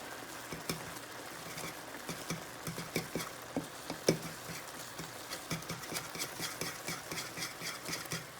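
Spaghetti noodles and ham stirred in a pan, a quiet run of soft scraping taps and clicks in an irregular rhythm, close by, with no talking.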